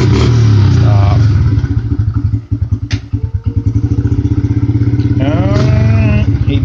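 A 2005 Honda XR70R dirt bike runs steadily up close, its small single-cylinder engine chugging in a fast even rhythm with a brief dip and rattle partway through before the idle settles again.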